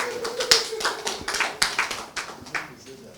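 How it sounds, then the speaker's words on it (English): Scattered clapping from an audience at a company business presentation, a loose run of individual hand claps of uneven rhythm, fairly close and moderately soft, with some background voices. "I didn't hear you clap, sir."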